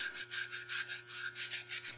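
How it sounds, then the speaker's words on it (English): Rhythmic hand sanding of a steel knife blade held in a bench vise, using 120 to 220 grit sandpaper, steady back-and-forth rasping strokes, close and moderately loud, with a faint steady hum underneath. "the final sanding at the bench using the vise. So I use sandpaper"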